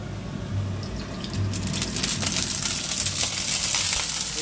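Tap water runs in a steady gush and splash during home cooking of seafood paella, a continuous close wash with no talking.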